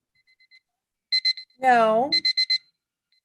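Bursts of rapid electronic beeping, a few quick pulses, then a voice speaks briefly, followed by another run of four beeps and a faint one.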